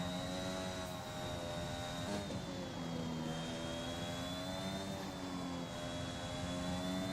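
A Formula 1 race car engine in the F1 2021 video game at the Japanese GP, a steady high-pitched whine holding near-constant pitch with a slight dip as the throttle eases, running continuously at moderate level with no talk.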